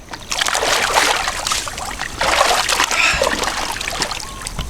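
A shirt dyed with Kauai mud is rinsed in water, producing continuous close splashing and sloshing with brief pauses, loud and steady throughout.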